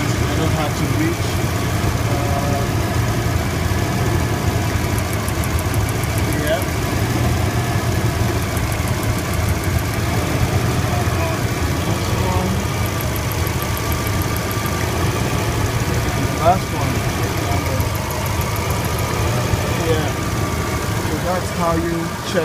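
A Toyota engine idles steadily under the hood while its ignition coils are checked one by one, a constant close mechanical drone with faint ticking and a periodic high whine throughout, as someone talks over it.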